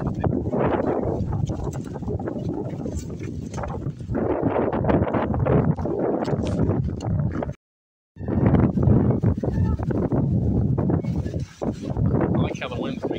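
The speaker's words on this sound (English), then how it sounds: "I like how the wind's making it pretty loud." Strong wind buffets the microphone outdoors at a pumpkin patch, a loud continuous rumble with a brief drop near the middle, and people talk over it throughout.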